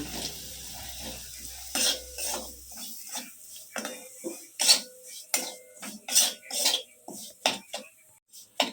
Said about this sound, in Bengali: সুজিটাকে আমি ভালো করে একটু ভেজে নেব